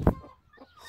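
A broody hen sitting on four eggs gives one loud, close cluck, then softer grumbling clucks trail off after it.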